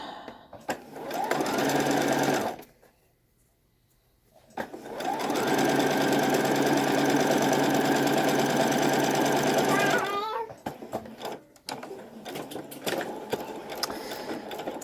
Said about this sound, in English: My machine, Singer Futura